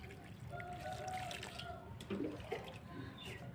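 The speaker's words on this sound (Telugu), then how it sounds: "వాటర్ పోసేద్దాం" Water pours onto vegetable plants such as tomato and chilli seedlings in a rooftop garden, making a soft, low splashing trickle for a few seconds with faint background noise.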